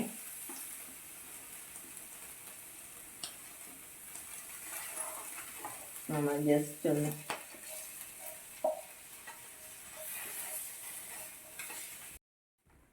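Maanthal fish sizzles in a frying pan while it is turned over, with a steady hiss of hot oil, a few scraping and clinking taps of a spatula on the pan, and a brief burst of louder frying as a voice speaks.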